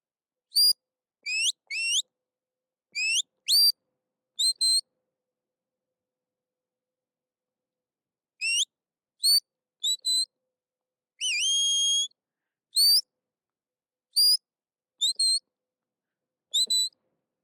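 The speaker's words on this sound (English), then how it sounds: "And he's taking his whistles quite well now." A shepherd's series of sharp, high-pitched whistle commands to a sheepdog, some single and some rising or warbling, sounded in short bursts with pauses between, no talking.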